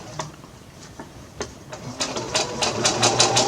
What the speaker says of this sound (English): We're going to sew to the end.